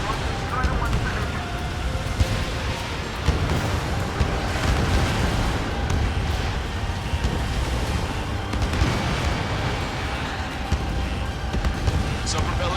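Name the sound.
sub-propeller explosion in video game Ace Combat 7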